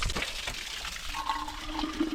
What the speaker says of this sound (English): gonna fill up my water bottle.